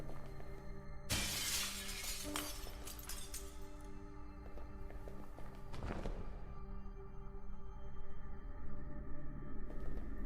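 A glass cabinet holding a fire hose shatters in the Don't Escape 4 video game as a rock is thrown at it, a sharp crash followed by tinkling debris, then quieter ambient tones and a second brief impact.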